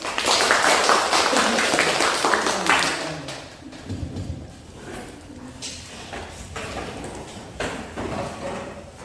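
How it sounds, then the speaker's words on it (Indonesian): A classroom of children clapping their hands, loud and dense at first, then thinning into scattered, uneven claps mixed with room noise and brief murmurs. "Tepuk tangan dulu"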